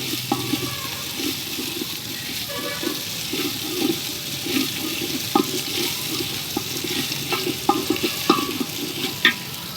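Ginger paste and onion frying in oil for vegetable khichuri, a steady close sizzle with scattered stirring scrapes and sharp spatters throughout, no voices.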